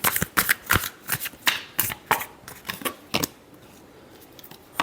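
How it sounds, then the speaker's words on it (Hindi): Tarot cards shuffled by hand in a final shuffle, a close run of about a dozen crisp riffling snaps in quick uneven rhythm, then a short lull before one more snap. "Last shuffle."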